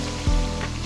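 Potatoes frying in oil for a Spanish potato tortilla, a steady close sizzle with a brief louder crackle near the start.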